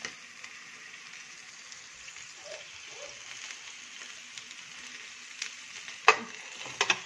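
Sliced peppers fry in a pan with a soft, steady sizzle, joined near the end by a few sharp clacks and scrapes as they are stirred.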